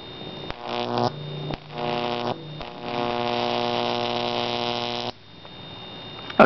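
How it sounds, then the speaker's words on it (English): A de-shunted neon sign transformer hums loudly with a strong buzzing drone and layered harmonics. It switches on and off in several bursts, then drops away near the end. "that's the effects that de-shunting a neon sign transformer can have"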